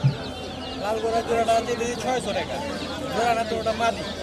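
Red-necked pigeons at a pigeon market in Jinjira, Bangladesh, soft cooing and calls nearby, partly buried under steady talk and market babble.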